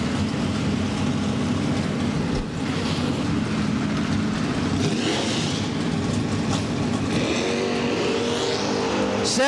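A Camaro drag car launching down the strip at a Labor Day bracket race, loud roaring engine sustained throughout, pitch sweeping upward with gear changes as it pulls away, rising whine near the end.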